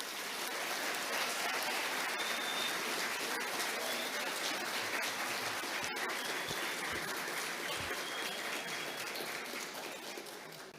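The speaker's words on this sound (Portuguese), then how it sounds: "Um salve de palmas para a Dona Dolma." An audience at a formal ceremonial session awarding educational merit diplomas claps steadily for about ten seconds, a dense, even patter of many hands at moderate level.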